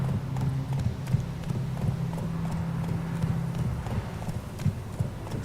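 Horse hooves clip-clop steadily in The Witcher 3, a quick, even run of hoofbeats over a low ambient rumble with no talking.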